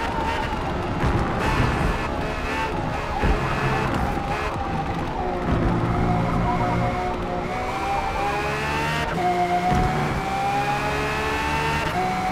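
A Camaro ZL1 fitted with a V12 engine races in Forza, its engine droning steadily and loud throughout with shifting pitch as it accelerates and changes gear.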